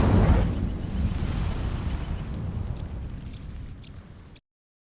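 A fire spell is cast in Hogwarts Legacy, a sudden whooshing burst that roars at once and then trails off into a crackling rumble lasting several seconds before cutting out.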